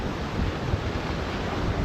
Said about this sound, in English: It's a little bit windy around here.